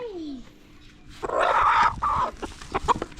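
Chickens clucking close by on a Thai farm while birds are being bound and handled, a short run of squawks and clucks over rustling and handling noise.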